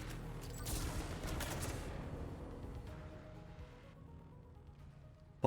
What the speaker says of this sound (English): Particle cannon.